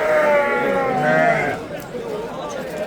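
A sheep at the Sariosiyo Thursday market lets out a long, loud bleat close by, then a fainter second call, with market murmur and voices in the background.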